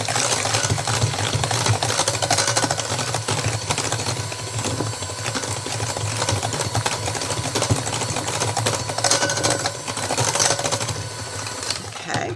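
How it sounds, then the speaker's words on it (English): An electric mixer on low speed working pound cake cookie dough in a home kitchen, a loud steady motor whir with irregular rattling for the whole stretch, with no talk over it. "Alright, we're going to mix these together."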